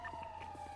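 Police sirens wail steadily in the GTA V roleplay game, a sustained wavering tone with no speech over it, only a brief burst.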